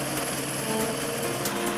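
A helicopter hovering close in to blow away a swarm of bees with its rotor wash during a beekeeper rescue, a dense continuous engine roar and whine with a faint rotor pulse, steady and loud throughout.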